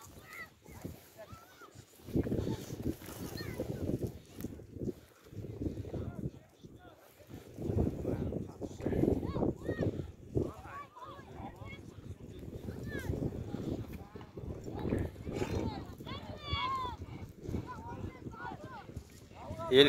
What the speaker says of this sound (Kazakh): Үшті аяқтап келе жатыр аттар